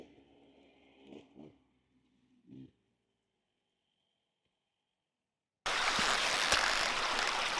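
A creek in Idaho rushes steadily and loudly near the listener, starting abruptly after some quiet engine-like murmurs and a long silence, then continuing as dense broadband water noise.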